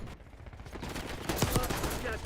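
Fast bursts of Call of Duty Black Ops 6 multiplayer gunfire crackle in a steady automatic rattle at low to moderate volume, with no voices over it.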